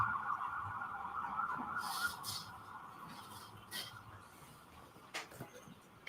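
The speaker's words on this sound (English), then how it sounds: "wait until the sirens pass" Emergency vehicle sirens pass at a distance outside a courtroom, a faint wailing tone holding across the moment with some soft rubbing and shuffling noises close by.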